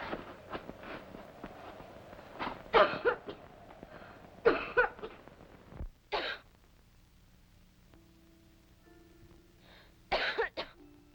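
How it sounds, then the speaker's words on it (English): Several harsh coughs from a man come in separate bursts, close and fairly loud, with quiet pauses between them and a final cluster near the end, from a 1970 film of Jane Eyre. "It's only the cough. I've always had it."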